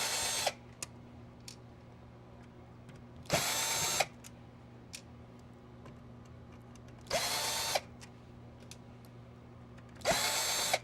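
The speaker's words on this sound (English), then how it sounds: "Let's just take these out real quick, like with the drill." A power drill backs screws out of a vintage Nintendo console in four short, loud whirring bursts separated by quiet pauses with faint clicks and handling noise.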